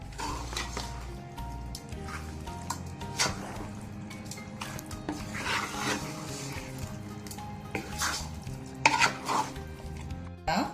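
A spoon stirs a pork bafat mixture in a pot in a Mangalorean home kitchen, giving soft scraping and clinking with light sizzling, close and fairly quiet, with faint background sounds.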